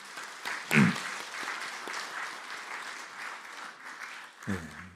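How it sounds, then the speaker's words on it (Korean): A church congregation at a Sunday service claps to welcome a newly registered member: a soft, moderate spread of applause through the room, with a brief louder burst near the start and a voice briefly emerging near the end. "우리 박수로 환영하시겠습니다"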